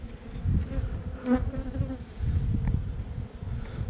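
Honeybees buzz steadily in a dense, droning swarm around a hive, with a louder individual buzz passing close for a moment.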